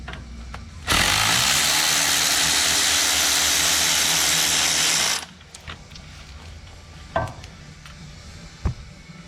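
A socket ratchet whirs rapidly for about four seconds while backing out a 10mm bolt on a Chevy Express van during oil pan gasket work, loud and close, followed by a couple of faint metallic clicks.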